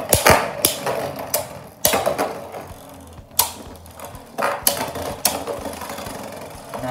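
Beyblade spinning tops are launched and clash in a plastic stadium, giving sharp repeated clacks and collisions over a steady whirring rattle as they spin and strike each other.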